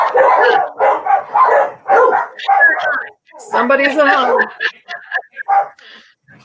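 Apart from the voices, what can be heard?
dogs barking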